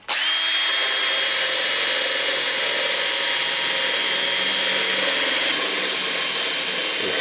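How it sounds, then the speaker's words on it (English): Old school drum sander whirring steadily on the rough, broken edges of a big maple piece, a loud, continuous high-pitched power-tool drone that starts abruptly and holds even for several seconds, close up with no talk. "I have had pretty good luck with my old school drum sander."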